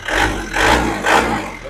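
A motorcycle engine revs up close in several swelling bursts while its oil cap is being checked, with people talking over the engine noise.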